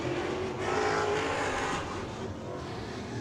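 A race car in outlaw figure-8 heat racing on an ice-season speedway drives away, its engine drone swelling briefly and then fading into the distance amid broad track noise.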